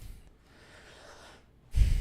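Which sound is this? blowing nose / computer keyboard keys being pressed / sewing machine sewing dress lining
blowing nose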